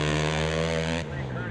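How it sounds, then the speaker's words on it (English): A dirt bike engine with an FMF exhaust roars at high revs during a GNCC cross-country race at Snowshoe, a loud buzzing drone that drops in pitch abruptly as the rider shifts. "he puts that FMF exhaust system and horsepower to work down that straightaway"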